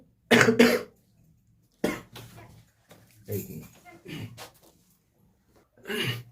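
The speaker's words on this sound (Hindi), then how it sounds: "दोस्तों थोड़ी खांसी हो रही है।" A person coughs several times in separate bursts, the first loudest, with short quiet pauses between them.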